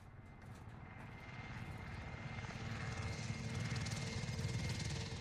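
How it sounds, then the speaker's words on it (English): Enemy supply helicopters pass overhead in the video game Call of Duty: Warzone, a steady rotor and engine drone that swells slightly louder midway and holds alone without talk. "Enemy supply choppers above."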